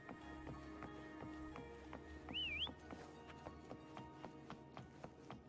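A short, bright rising-and-falling whistle from a character in Wuthering Waves calling a companion, heard once over steady game music with rhythmic footstep-like taps.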